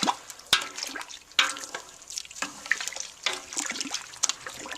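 A homebrew pale ale being stirred after Cascade hops go in, with liquid swishing, sloshing and dripping and a few sharper knocks of the paddle, close and moderately loud with no talk.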